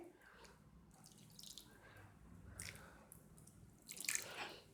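About a quarter cup of water poured around the edges of a pot of Kabuli pulao to build steam, giving soft trickling and dripping that ends in a brief sizzle. No voices.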